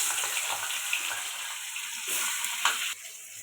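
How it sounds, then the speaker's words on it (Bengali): A spice-coated gurjali fish sizzles in hot oil in a wok, making a steady, close, bright hiss. The sizzle drops noticeably in loudness near the end, and no one speaks. "কড়াইতে দিয়ে দেবো মাছটা।"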